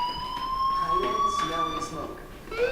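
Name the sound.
fire alarm, from the video game Life is Strange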